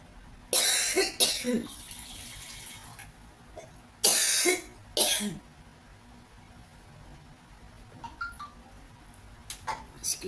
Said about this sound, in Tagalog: Pagpasensyahan nyo na, talaga may ubo ako.